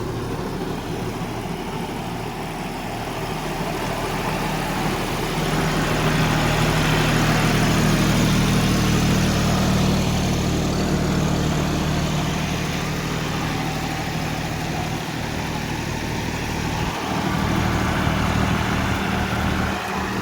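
A 2017-18 model tractor with over 3000 hours on it runs with an Agrizone super seeder attached, holding a steady, loud, low idling drone throughout with no breaks.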